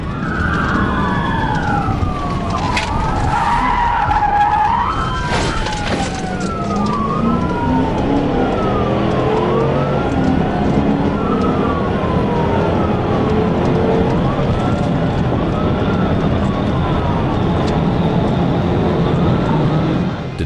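A police car in a high-speed pursuit, its siren wailing loudly and continuously with rising and falling sweeps over a roaring engine as it accelerates, with a brief squeal of tires early on.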